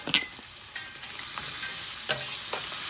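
Diced potatoes frying in a pan with onion and ginger for a Jamaican-style curry shrimp, giving a steady soft sizzle with a few brief clinks and scrapes of stirring, close and alone.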